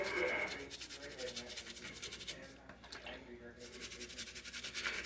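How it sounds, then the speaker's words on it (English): Plastic action figures are scrubbed clean with close, continuous rubbing strokes in a quick, steady back-and-forth rhythm. The rasping scrub stays prominent throughout and eases slightly midway. "after I get done scrubbing, I will go back to cleaning"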